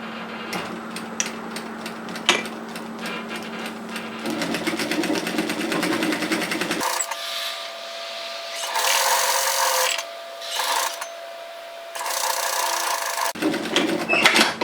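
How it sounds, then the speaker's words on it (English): Sewing machine stitching a fabric seam on bias binding cut from a fat quarter, fast rapid whirring bursts that start and stop several times, with brief pauses and small clicks between runs. "let's go to our sewing machine and stitch that"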